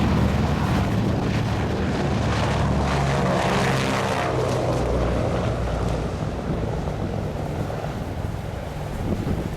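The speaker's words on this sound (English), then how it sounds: "as we watch the Super Constellation take off and turn for fantastic engines once again" A Lockheed Super Constellation propeller airliner takes off at an air show, its piston engines giving a loud, steady drone that holds throughout with some wind buffeting on the microphone.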